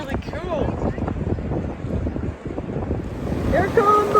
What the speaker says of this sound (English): Here come the waves! Ah, it's really strong!